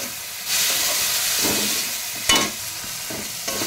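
Turmeric, salt and water hitting a hot pan while cooking paneer posto bring a burst of steady hissing sizzle with brief stirring scrapes, fairly close and without talk.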